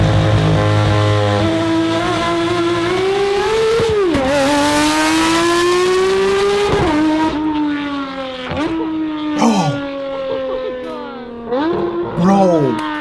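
A Porsche 911 GT3 RS with a loud exhaust revs hard nearby, rising in pitch through several sharp throttle blips and dropping between them, with crackles and a voice reacting over the engine.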